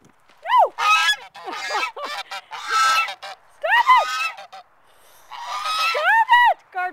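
Guard geese on a farm honk loudly and repeatedly at close range, bursts of harsh, rising calls coming in several overlapping rounds with brief pauses between them.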